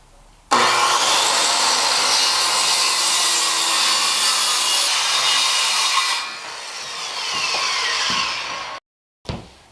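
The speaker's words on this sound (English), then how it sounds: "I've got a corded circular saw, and the blade is a rough construction blade" A corded circular saw fitted with a rough construction blade rips through wood in one long, loud continuous cut, its tone shifting partway through before the blade winds down and briefly cuts out near the end.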